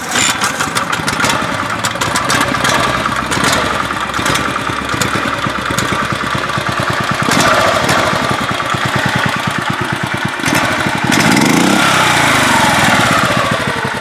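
A small stock Subaru engine on a mini bike pull-starts and runs at a steady rattling idle, close and loud with a fast even putter throughout and a slight change in tone near the end.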